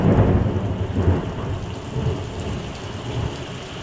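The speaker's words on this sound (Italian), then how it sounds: "Ammazza che tuono, ragazzi! Qua non smette di piovere un secondo," Heavy rain pours steadily during a storm around a 4x4 camper, with a deep rumble of thunder rolling through the first second or so before settling into a continuous, even downpour.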